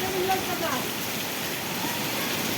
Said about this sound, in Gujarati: તમે જોઈ શકો છો અતિ ભારે વરસાદ પડી રહ્યો છે ધોધમાર વરસાદ